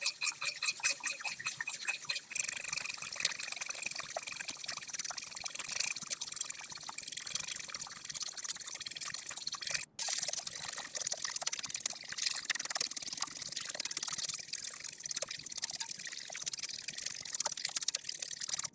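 A whisk beats rapidly against a bowl as olive oil is drizzled in a little at a time to make a vinaigrette, a steady, busy scraping and sloshing that runs close and continuous throughout.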